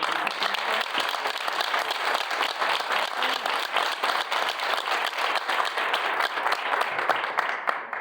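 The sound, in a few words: audience applause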